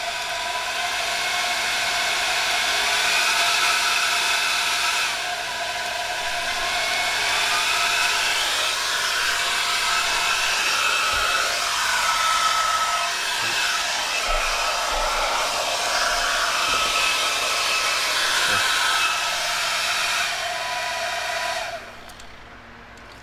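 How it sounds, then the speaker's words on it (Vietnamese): An electric fan switched on at its high setting gives a steady, loud whooshing rush of air for about twenty-two seconds, then cuts off abruptly near the end. No voices are heard. "Rồi này cắm vô quạt ha, quạt mạnh lắm nè, công tắc này."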